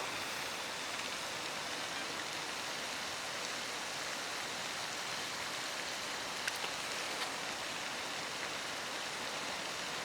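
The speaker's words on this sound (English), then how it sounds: "It's just started to rain again." Steady rain falling across a lake at a fishing spot, a dense even hiss of drops on the water with no voices, continuous and moderately loud throughout.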